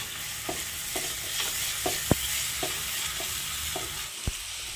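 Onions with a pinch of salt sauté in a pan for a homestyle chicken curry, a steady low sizzle punctuated by regular spoon scrapes and taps against the pan.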